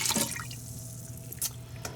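Two cups of water go into a Ninja Foodi pressure cooker pot as a brief, close splash and a few drips, with a faint steady hum underneath.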